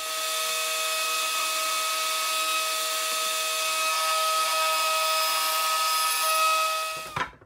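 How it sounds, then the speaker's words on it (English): A power router on a router table whines loudly and steadily as it trims binding flush on a guitar neck, a constant high-pitched machine drone that cuts off abruptly at the end. "gotta take it over to the router table and zip this down flush"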